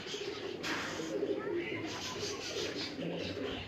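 Low, soft cooing of a twelve-year-old pet pigeon on an Islamabad rooftop loft, murmuring steadily close by under a faint hiss.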